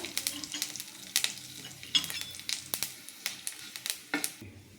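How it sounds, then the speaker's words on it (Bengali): Panch phoron and dried red chillies crackle in hot oil as a tempering for dal, with soft sizzling and a run of sharp pops and stirring clicks, close but fairly quiet, and no talking. "এখানে 5 ফোড়ন দিয়ে দিচ্ছি, 2 শুকনো লঙ্কা"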